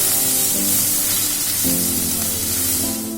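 Ginger-garlic paste and panch phoron frying in hot oil, producing a continuous loud, even sizzle that holds steady throughout, with no one talking.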